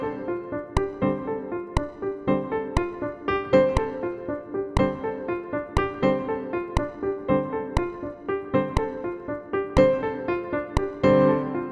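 Solo piano playing a rhythmic jazz exercise, a right-hand pattern with left-hand chords struck on regular accents, steady and close throughout with no talking.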